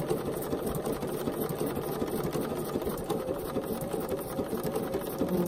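A sewing machine fitted with an open toe foot stitches around the edge of a quilted fabric postcard, humming in a close, steady, even drone without pauses.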